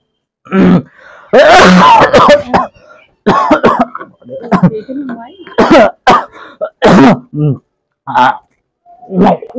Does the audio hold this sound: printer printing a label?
no